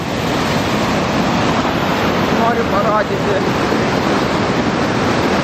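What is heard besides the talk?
waterfall in spring flood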